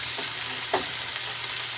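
Chopped red peppers sizzle steadily in a hot pizza skillet, a close, even frying hiss with one brief stirring clatter partway through.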